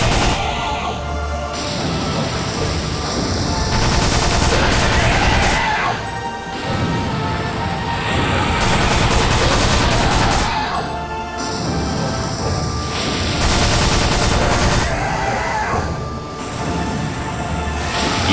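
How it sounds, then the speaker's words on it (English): Machine gun fire in an action video game, heard as loud sustained bursts of rapid shots and crashing impacts in long repeating waves with short lulls between them, dense and close throughout. "I'm just going to keep firing at it with the machine gun until something happens"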